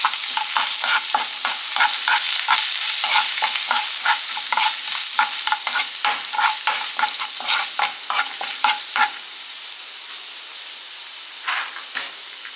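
Chopped ginger and turmeric powder stirred in a hot pan for lemon rice, giving a loud, steady sizzle with rapid, rhythmic spatula scrapes close by. The stirring fades near the end and leaves the sizzle alone.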